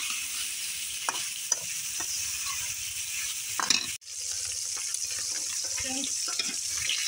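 Hilsa fish frying in oil produces a steady, moderate sizzle throughout, with occasional clinks and scrapes and a brief dip in the middle, set amid a home kitchen with faint background noise.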